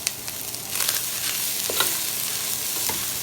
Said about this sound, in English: I mix those up until the onions are translucent.